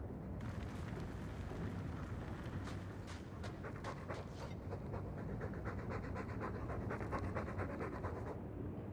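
A dog in the Dragon Age 2 video game pants rapidly and rhythmically, close and steady throughout, over a low rumbling game ambience.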